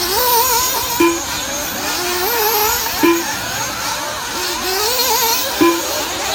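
Nitro RC buggies racing around a track, their high-pitched engines whining and warbling as they rise and fall in pitch, with several cars overlapping and periodic louder passes close by.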